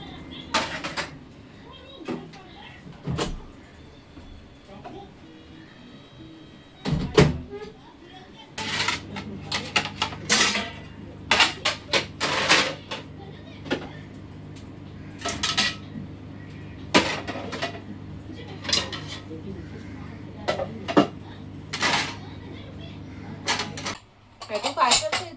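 Dishes, pots and utensils are pulled out and sorted in a home kitchen, with scattered clanks, cupboard thuds and metallic clatter rising into busy bursts, while a steady hum runs underneath and a voice speaks at times.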